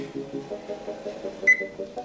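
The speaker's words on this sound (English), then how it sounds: "So I'm gonna set a timer for 30 minutes" A kitchen timer being set for brownies, giving a short electronic beep around the middle, clear above a steady low hum of background noise, with no talking.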